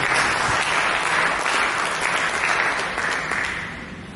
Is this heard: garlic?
no